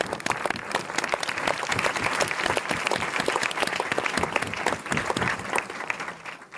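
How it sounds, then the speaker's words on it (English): Warm applause for speakers at a technical conference on preventing work-related cancer, a lively crowd of clapping hands with distinct sharp claps standing out through a steady, fairly close burst. "let's give them a warm applause for their hard work"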